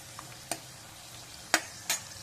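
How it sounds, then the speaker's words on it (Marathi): Cashews frying in oil until light golden for a cashew paneer masala, with a soft steady sizzle and a few sharp spoon scrapes, quiet and close, no talking. "फक्त हलका असा सोनेरी रंग येईल तेवढेच काजू तळायचे आहेत"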